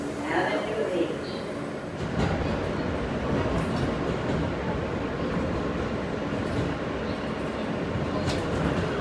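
A New York City subway R160 train running on the Q line, a steady loud rumble and rattle of the car in motion, with a faint clickety-clack throughout.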